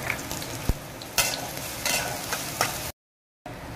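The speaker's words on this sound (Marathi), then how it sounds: "कांदा टाकूया आपण आता ह्याच्यामध्ये। कांदा हलका असा लाल करून घ्यायचा आहे।" Chopped onions fry in hot oil in a pan for a village-style dried shrimp and eggplant curry. A steady sizzle runs throughout, broken by a few sharp spoon scrapes and taps as the onions are stirred, then a short silent gap.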